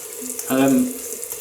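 A bathroom tap runs briefly as hands are wet during a shave with an Edwin Jagger DE89L razor and Arko soap, a short close splash of water under a steady background hiss.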